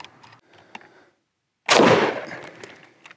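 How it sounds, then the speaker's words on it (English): A single loud rifle shot from a 7.62x39 SKS with a 20-inch barrel, fired at a Level III polyethylene armor plate 15 meters away, a sharp blast with a ringing tail after some quieter handling noise. "We have an SKS here, 20-inch barrel on this, a little longer than your typical AK, 15 meters again, so we'll put a shot on it."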